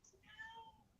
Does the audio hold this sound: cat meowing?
yes